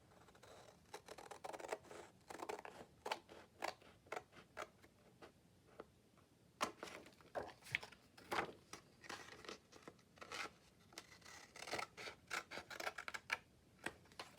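Scissors trim a reused paper mail envelope with a run of short, crisp snips and light paper crinkling, close and fairly quiet, in irregular bursts with no talking.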